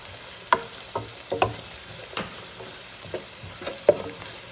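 Peppers and green onions cooking in a hot pan, a steady close sizzle broken by several sharp spoon scrapes and stirring knocks at irregular intervals.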